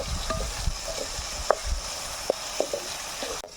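Curry leaves drop into hot oil while snails fry, producing a low steady sizzle with a few sharp pops and light utensil taps, close and fairly quiet, with no talking.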